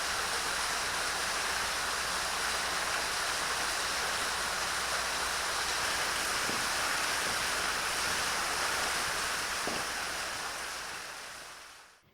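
A waterfall on La Gomera, reached by a rocky trail through vegetation, roars as a constant dense rush of falling water, loud and close, holding steady for several seconds before cutting off.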